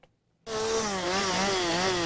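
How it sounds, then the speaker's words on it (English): A chainsaw rips steadily through storm debris during cleanup on the Texas Gulf Coast, starting abruptly after a moment of quiet and then holding a continuous, wavering engine whine. "The rip of chainsaws reverberated up and down the Texas Gulf Coast as cleanup crews got to work"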